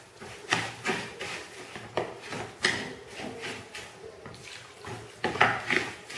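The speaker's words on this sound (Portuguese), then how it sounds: "Então, a gente mistura e vamos molhar com água." Water is poured over couscous flour with sugar and a pinch of salt, then mixed by hand or spoon in a bowl. Soft, irregular scraping and rubbing sounds repeat close by with no talking.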